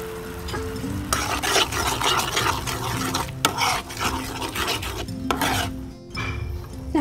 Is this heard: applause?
no